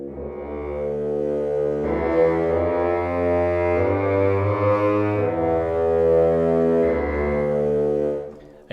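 Orchestral strings from composition software samples play a smooth legato line, notes gliding into one another in a sustained, full-bodied chordal passage lasting several seconds, with no speech.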